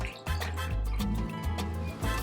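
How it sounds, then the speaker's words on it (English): Ginger beer margarita poured over ice into a glass, a steady close liquid stream with low gurgling and pulsing glugs lasting the whole pour. "So I'm just going to pour this over and do a taste test with you all."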